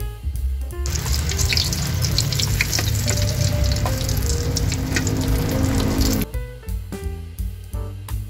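Pieces of chicken sizzle loudly in hot frying oil, a dense continuous crackle and hiss that holds steady, then cuts off as the pan is disturbed, leaving scattered clinks and softer bubbling.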